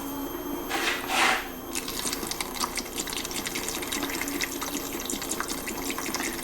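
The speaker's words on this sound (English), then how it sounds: "Just simply put it in the tray, and we're going to pour in the vinegar." Vinegar pours into a plastic tray with a brief gurgling splash near the start, then settles into a soft, continuous trickle and fizz, close and quiet.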